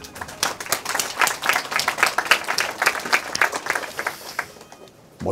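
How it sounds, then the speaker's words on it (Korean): An audience at a live lecture claps together, a dense burst of many hands that holds for about five seconds before thinning out, with no talk over it. "이대음 씨한테 박수 한번 쳐줘야 되는 거 아닙니까?"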